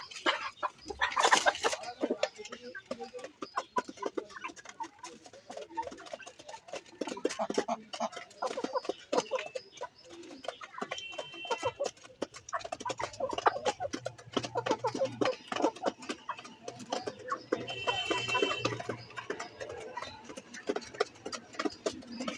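Chickens and roosters in a neighbourhood flock cluck continuously at close range, with scattered louder calls and background farmyard bustle; no talking over them.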